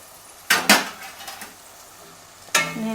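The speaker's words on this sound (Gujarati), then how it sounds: "અને એને આપણે આ રીતના હલાવી લઈશું" A metal spoon clanks sharply against a pan while stirring two finely chopped medium tomatoes, three distinct knocks with soft scraping between them, close and clear.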